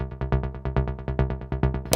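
Nord Drum 3P sawtooth synth voice played without sample reduction, a fast run of about sixteen bright, buzzy, harmonically rich notes in steady rhythm, close and loud with no talking.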